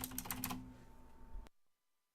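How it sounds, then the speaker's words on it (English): Rapid keyboard typing, a quick burst of close keystrokes over a humming background that fades and then cuts off abruptly. "Sitting on here fucking pounding my keyboard."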